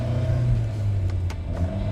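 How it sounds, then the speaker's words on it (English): Ford Anglia 105e with a 4-cylinder 1000cc engine and 4-speed gearbox driving, a steady loud low engine drone close by, alone without talking. "The Ford Anglia is powered by a 4-cylinder 1000cc engine, and it's also coupled up to a 4-speed gearbox"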